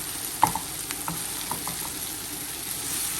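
Bitter gourd (karela) being stirred into minced meat (qeema) in a pan: a few spoon clicks and scrapes over a steady low sizzle, close by and without speech.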